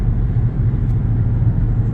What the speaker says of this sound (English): Listen to this car. I'm in sport mode, and listen how quiet this car is.